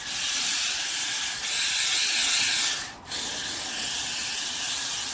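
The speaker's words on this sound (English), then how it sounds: "So I'm taking some freeze spray. It's basically just really strong hairspray" A steady, loud hiss of strong freeze hairspray sprayed onto a wig close by for about five seconds, with one brief pause near the end before the spraying resumes.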